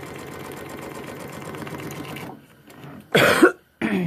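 A sewing machine stitches fabric along a paper-pieced prairie point trivet, running with a steady close mechanical whir for about two seconds before stopping, followed by a cough and throat clearing.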